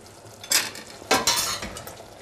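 A spoon stirs soy mince and aubergine curry in a pan, making close scraping and clinking strokes in a few distinct bursts, with no voices.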